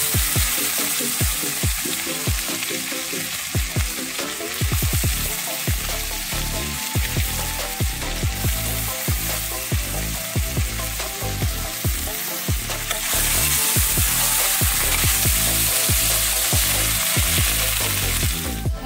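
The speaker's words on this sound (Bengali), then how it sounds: "এবার তেল গরম হয়ে এসছে, আলুটা ছেড়ে দিলাম" Potatoes fry in hot oil with a loud, continuous close-up sizzle. Frequent crackling pops and occasional stirring knocks run through it, and the sizzle swells briefly louder toward the end.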